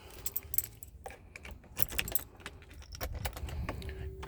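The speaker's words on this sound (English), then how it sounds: "You have to put the keys in the ignition." TVR V8 car keys jingling and clinking in short irregular bursts as they go into the ignition, close up and fairly quiet, with faint background noise.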